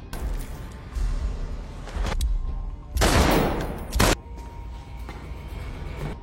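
Gunfire in an action film scene as a man is shot dead: a dense burst of shots rings out loud and close amid a heavy, rumbling soundtrack, followed by a second short burst.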